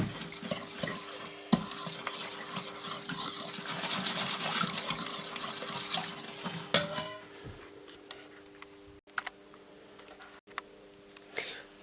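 A spoon stirs a mixture of baking soda and 100 ml of water in a container, giving a steady scraping, swishing sound for several seconds that ends with a clink, followed by quieter handling noises.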